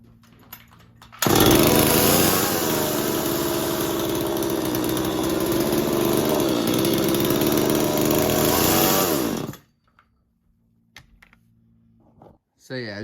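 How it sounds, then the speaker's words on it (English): Restored Stihl or Husqvarna chainsaw firing up and running at a loud, steady high-pitched rev for about eight seconds, then cutting off abruptly, followed by quiet with faint sounds. "as you're seeing, the saw did start and run"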